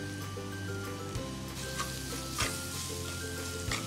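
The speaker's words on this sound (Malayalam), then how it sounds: "2 മിനിറ്റ് വഴറ്റിയാൽ മതി മീഡിയം ഫ്ലെയിമിൽ വെച്ചിട്ട്" Curry leaves and onions sauté on medium flame for a spicy Kerala-style sardine curry, giving a steady, even sizzle with a few soft stirring clicks throughout and no talk.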